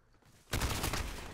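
A sudden burst of rapid gunfire in a competitive video game shooter match begins about halfway through and stays dense and loud until the end, with no talk.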